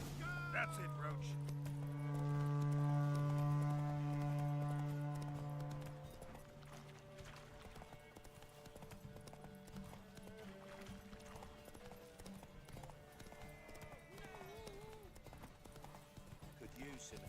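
A horse trots along in The Witcher 3, its hooves giving a steady clip-clop under game music, while someone talks over it for much of the clip.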